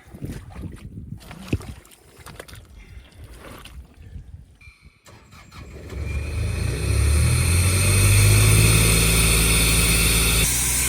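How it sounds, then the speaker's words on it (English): An air compressor powering a ground-boring mole for laying pipe under concrete starts up outdoors after some scuffling, rising into a steady, loud mechanical drone with a low engine hum that holds to the end. "Compressor there behind Maxi. So that's what powers the mole."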